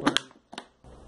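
A knife punctures a small hole in a plastic bottle, giving two quick sharp crackling clicks and then a softer scratch, close and alone.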